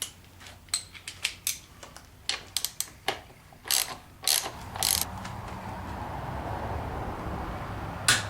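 Bolts on an NP208 transfer case are tightened in a pattern with a hand ratchet: a run of quick, sharp clicking bursts of varying length close by, then a steadier low mechanical noise.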